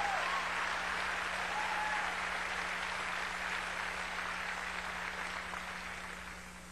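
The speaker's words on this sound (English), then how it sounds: "I don't know why you're clapping." Sustained applause from a church audience during a sermon, a dense steady wash of clapping hands filling the room, slowly fading toward the end, with no speech over it.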